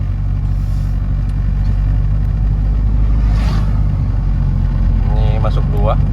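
Nissan X-Trail T31 with automatic CVT pulling away in first gear on a road, a steady loud engine drone rising under the whole stretch, with a voice talking over it near the end.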